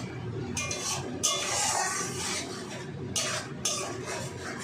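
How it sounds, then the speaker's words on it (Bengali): Onions and tomatoes are stirred in a pan, giving a continuous close scraping and shuffling with soft sizzle underneath and a few louder scrapes, no voices. "তিন চার মিনিট একটু ভালো করে নেড়ে চেড়ে নেবো"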